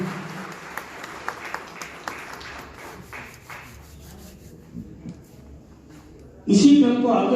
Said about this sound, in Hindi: विश्वेंद्र हुडा साहब के लिए जोरदार तालियां